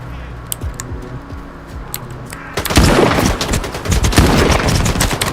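Shotgun fire in the video game STALKER 2, a burst of loud, close blasts with crackling impacts and rapid overlapping shots that fill the second half, after quieter scattered clicks.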